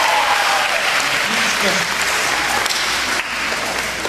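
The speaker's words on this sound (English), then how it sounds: "please give yourself another big round of applause" Audience applause from a crowd of mothers at an event: a dense, steady wash of clapping that fills the room for several seconds, with a voice speaking over it.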